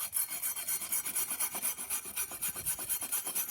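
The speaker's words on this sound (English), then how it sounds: "So I'm going to use a wired brush and sand it down." A wire brush scrubs rust off a part from a 1975 Chevy C10 truck, giving a loud, close, steady rasping with a fast back-and-forth rhythm and no talking.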